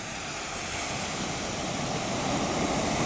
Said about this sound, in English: The Atlantic Ocean.